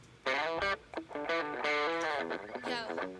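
A distorted electric guitar plays alone, an isolated track from a song, strummed chords ringing out with a long reverb tail, loud and steady throughout.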